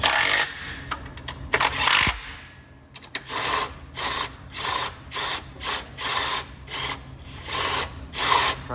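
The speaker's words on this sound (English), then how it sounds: "So I'm going to pull on the crowbar towards me and tighten these bolts right back up." An impact wrench tightens the chain adjuster bolts on a Trax X2, firing in a rapid series of short, loud ratcheting bursts with brief pauses between, close up.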